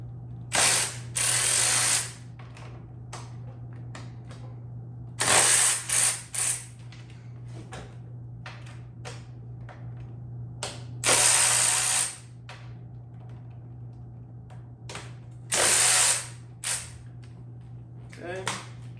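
Ratchet wrench loosening the wheel nuts on a Yamaha YZ250 dirt bike, with four short bursts of rapid clicking separated by pauses over a steady low hum.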